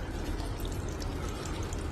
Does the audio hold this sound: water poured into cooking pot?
yes